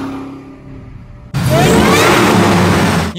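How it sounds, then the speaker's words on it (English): A rare Ford F-150 SVT Lightning pickup, its engine and supercharger, is quiet at first, then bursts into a loud, sustained roar with a rising supercharger whine that holds steady to the end. "The sound of the engine and supercharger will make you forget you even have a radio."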